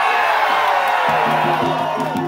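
A hyped concert crowd at a Toronto club show cheers and whoops loudly and continuously, a dense roar of voices with scattered shouts rising over it.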